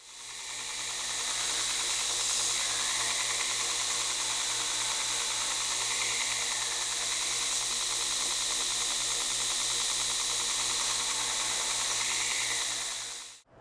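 A belt grinder running a 120 grit belt grinds bevels on an 80CrV2 steel knife blade, producing a loud, continuous hissing roar close up for about thirteen seconds before cutting off abruptly.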